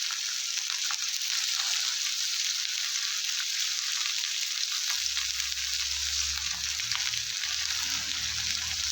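Okra frying in a pan with salt, giving a steady bright sizzle throughout that deepens with a low rumble in the second half.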